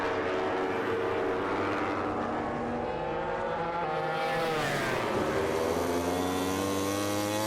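A Yamaha MotoGP racing motorcycle at the 2019 Aragon round screams past with a rising then falling engine whine as it sweeps by at speed, revving hard through the gears, loud and close with no talk over it.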